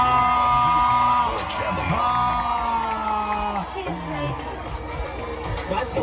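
Students and families cheer and whoop at a school celebration event, a loud burst of shouting and crowd noise that eases slightly but stays lively throughout.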